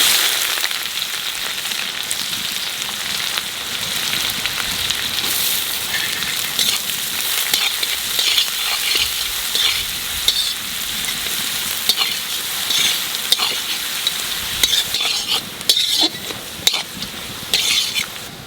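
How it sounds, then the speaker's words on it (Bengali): Chopped onion frying in hot oil with cumin, bay leaf and dried chilli, making a steady loud sizzle throughout with occasional scrapes and stirring clatter, close up and without speech. "তেলের মধ্যে দিয়ে দেবো জিরে, তেজপাতা, শুকনো লঙ্কা। এইবার পেঁয়াজ কুচি দিয়ে দেবো।"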